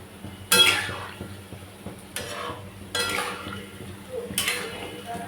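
Palm fritters lifted out of a frying pan, with a few scraping clatters of a utensil against the pan and a low sizzle of oil running underneath, close by.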